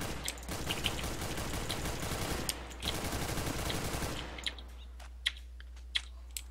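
Rapid bursts of gunfire from the video game CS:GO fill the first four seconds as dense, continuous shots, then give way to a few sparse, sharp single shots.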